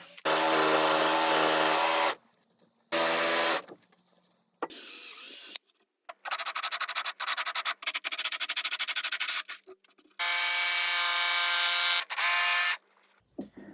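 Router cutting two small channels in wood on a portable folding router table, loud screaming bursts of cutting that start and stop repeatedly, with short quiet gaps between passes.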